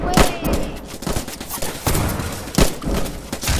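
Gunfire in the Roblox game Trenches: loud, close shots and bursts repeat irregularly over a dense battlefield din, with some low thuds mixed in.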